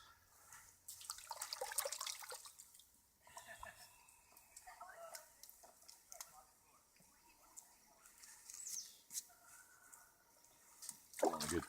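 Yucca fiber rinsed by hand in water, giving bursts of splashing and dripping with wet squishing sounds that come and go, loud at times and quieter in between, with no talking.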